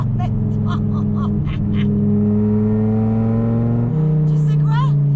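A Dodge Viper GTS engine droning loudly from inside the cabin while driving, its pitch climbing steadily through the gears with a shift near the end, with people talking over it.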